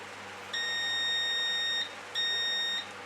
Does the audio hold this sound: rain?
no